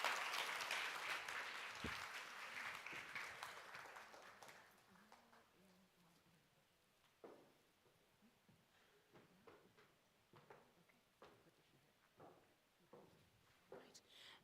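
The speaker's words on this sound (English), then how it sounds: "Please, clap them all the way onto stage," Audience applause fills a conference hall at a 2024 inspirational event as guests walk onto stage, loud and dense at first, then thinning after about five seconds into scattered claps, shuffling footsteps and small knocks.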